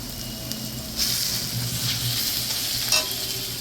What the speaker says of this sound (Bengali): এমনি দিয়ে দিচ্ছি তেলের ওপর। মশলাটা এবার ভালোভাবে কষে নেব।